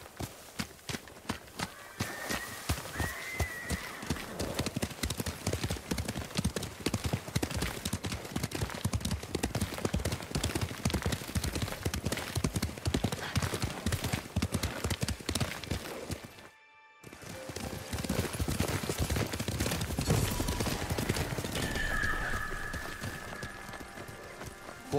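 Horses gallop in Ghost of Tsushima, a steady rapid clip-clop of hooves running almost continuously for the full stretch, broken by a brief silent gap partway through, with an occasional whinny and faint background sounds.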